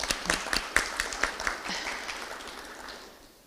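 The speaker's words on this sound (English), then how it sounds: "Let's give them a round of applause." A round of applause for MLK committee members at an annual breakfast celebration, a few close, distinct claps over a softer crowd, tapering off steadily toward the end.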